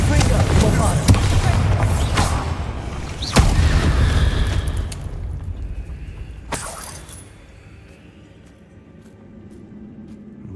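Bombarda and Confringo spell explosions in the Hogwarts Legacy video game, with loud booming blasts and a sharp crack near three seconds under shouted spell names, then a fading rumble and a late burst as the noise trails off.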